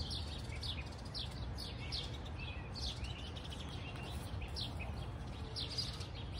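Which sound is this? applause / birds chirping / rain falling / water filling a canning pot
birds chirping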